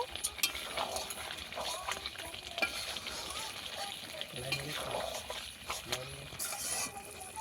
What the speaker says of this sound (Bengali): চিকেন মশলাটা দিয়ে দেবো। দিয়ে একটুখানি কষিয়ে নেব।